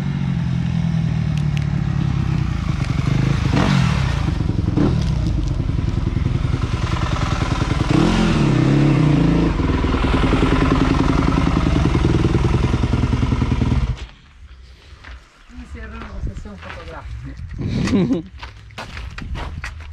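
A 2021 Yamaha YZ250F motocross bike rides a track, its engine a loud continuous buzzing drone with rising and falling revs that cuts out abruptly near the end, leaving scattered clatter and voices.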